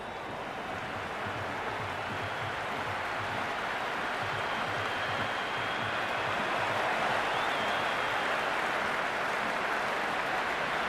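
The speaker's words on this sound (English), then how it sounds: "the crowd is at near bursting point at today's play" Stadium crowd in the cricket video game Cricket 26, Pakistan versus Sri Lanka, roars in a steady, unbroken wash of noise that swells slightly toward the end, with no voices standing out.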